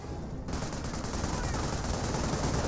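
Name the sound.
video game gunfire from units firing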